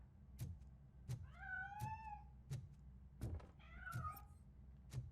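A cat meows twice in the RoboCop: Rogue City video game, each a clear drawn-out call, set against regular heavy thumps repeating about every 0.7 seconds.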